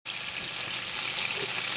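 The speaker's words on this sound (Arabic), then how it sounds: "البصل هنزله في السمنة والزيت" Onion frying in ghee and oil for hamburgers, a steady close sizzle that holds evenly for under two seconds.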